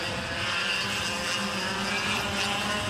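Junior Yamaha racing karts scream at high revs, around 13,000 to 14,000 RPM, during a 2011 CIK junior final, a continuous loud, buzzing engine drone close by with no pauses.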